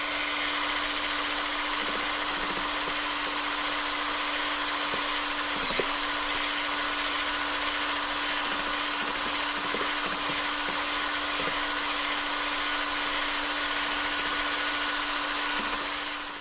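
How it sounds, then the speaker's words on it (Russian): A cordless drill fitted with a bent wire spins through artificial stone mortar for a countertop, giving a steady, unbroken whirring drone with a faint tonal hum that holds for the full stretch. "За неимением специального миксера я загнул проволоку и вставил шуруповерт,"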